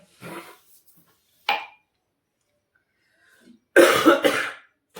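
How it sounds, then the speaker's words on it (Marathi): An old man who chews tobacco coughs a few times in short bursts separated by quiet pauses, ending with a louder, harsher coughing fit. "खोकला आहे खोकलत आता वय झाली माणसाची"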